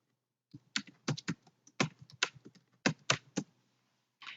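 Close, crisp computer keyboard typing in short irregular bursts with brief pauses, keys clacking quickly in clusters; no voices.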